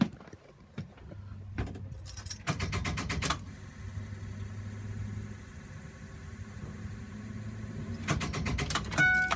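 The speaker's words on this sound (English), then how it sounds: "Sounds like not enough power to the starter." A 2006 Ford E-450 Blue Bird bus, missing its two batteries and hooked to three jump boxes, fails to start: a short sluggish starter crank followed by a sustained whirring drone, close and moderately loud, with no speech.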